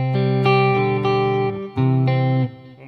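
An electric guitar plays the arpeggiated pre-chorus of a song, chords broken into picked notes in a steady rhythm with a brief gap before the pattern resumes, close and loud with no talking.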